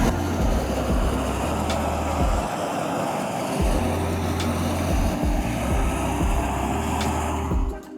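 A propane flame weeding torch roars steadily while being worked across no-till market garden beds, a loud continuous rushing burn with low rumble that holds for several seconds before easing slightly at the end.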